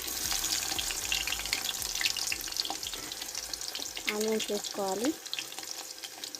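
Onions and cumin seeds frying in oil in a kadai on a stove, giving a steady close sizzle with scraping stirs throughout, under a short stretch of speech.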